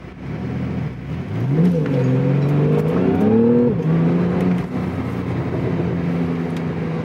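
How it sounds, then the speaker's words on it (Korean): A 2018 Porsche 911 Carrera (991) with PDK, in sport mode, revs up and accelerates hard from a standstill, pitch climbing through the gears, then settles into a steady drone. "정지 상태에서 어, 스포츠 모드로 하고 한번 가속을 해보겠습니다."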